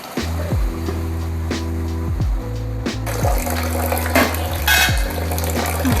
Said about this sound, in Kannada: ಸ್ವಲ್ಪ ನೀರು ಆ್ಯಡ್ ಮಾಡ್ಕೊಳ್ಳಿ